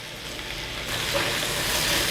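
Fish cake pieces drop into a hot oiled pan for Korean stir-fried fishcake, and a steady broadband sizzle swells louder after the first second and holds, close and continuous.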